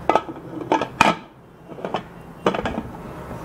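A metal lid is set over a cake tin resting on a tray inside a covered pan, for an eggless, ovenless zebra marble cake. A few sharp, close metallic clanks and knocks come in separate bursts with quiet gaps between them.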